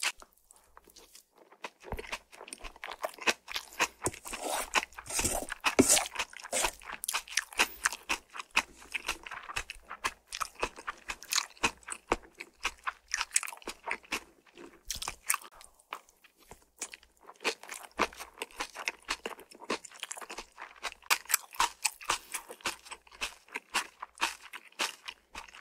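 Spicy raw marinated crab is crunched and chewed up close, with sharp, irregular cracking bites and wet mastication continuing throughout, fairly quiet and with no talking.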